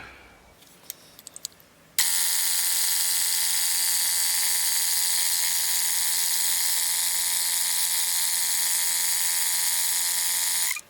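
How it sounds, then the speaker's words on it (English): A small air compressor blows a strong, steady blast of air into the spark plug well of a Suzuki DR650 motorcycle to clear out dirt. The loud, continuous hiss starts abruptly after a few faint clicks and holds for about nine seconds before cutting off. "if you fit this into your wee air compressor, you get quite a bit of force out of it"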